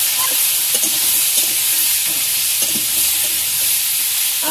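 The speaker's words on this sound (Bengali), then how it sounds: "এখন শুধু লাউটা কষাবো, কষায় হালকা জল দেবো" Bottle gourd is sautéed in a pan, with a dense, steady sizzling hiss throughout and faint stirring clicks now and then, close and fairly loud.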